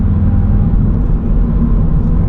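Low, steady engine and drivetrain rumble inside a 2022 Subaru BRZ during a quick 4th-to-5th gear shift, droning evenly throughout with no voices.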